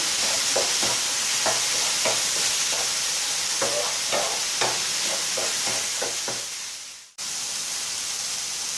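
Chicken pieces and vegetables fry loudly in a pan under a steady sizzle, with repeated scraping stirs across the surface, before the sound cuts out abruptly and the frying resumes.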